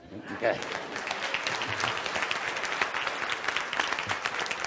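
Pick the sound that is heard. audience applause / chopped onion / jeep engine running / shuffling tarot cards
audience applause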